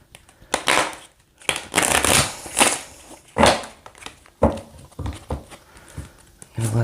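A deck of cards is shuffled and cut by hand, giving close papery riffles and soft slaps in uneven bursts separated by short quiet gaps.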